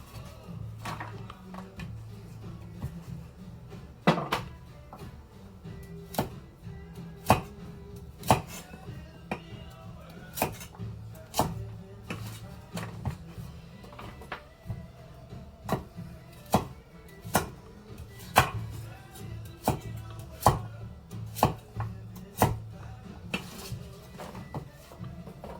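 A knife makes oblique cuts through carrots on a cutting board, sounding as sharp, evenly spaced chops that repeat steadily throughout at close range, with no talking.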